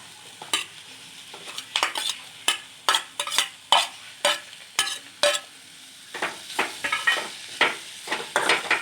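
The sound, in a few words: stirring steamed cluster beans (gavar) in a pan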